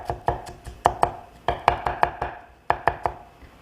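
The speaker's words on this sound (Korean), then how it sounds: "남은 양파는요, 그냥 잘게 다시 한번 썰어 주시면 돼요" A knife finely chopping leftover onion on a cutting board, prepared for Chinese yuni jjajangmyeon, strikes in clear close taps, some single and some in quick pairs and triplets, alone without any talk.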